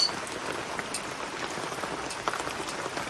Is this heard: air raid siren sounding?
no